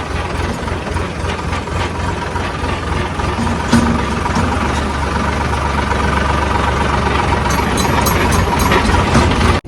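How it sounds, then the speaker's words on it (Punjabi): A tractor engine runs steadily at a low, rumbling idle, loud and close, with a slight rise in intensity partway through and a faint rattling knock in the drone. "ਹੁਣ ਆਪਾਂ ਅੱਗੇ ਟਰੈਕਟਰ ਲਿਜਾ ਰਹੇ ਆ"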